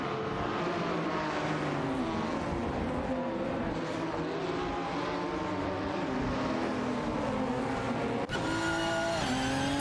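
Race cars in an AI sim racing game, a steady loud engine drone with revs rising and falling, a brief tire squeal and a sharp jump to a higher-pitched engine near the end, no voices.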